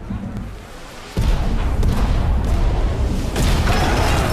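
Ship cannons fire in The Pirate Queen video game: a heavy boom suddenly breaks in, followed by sustained rumbling blasts and crackling bursts at close range.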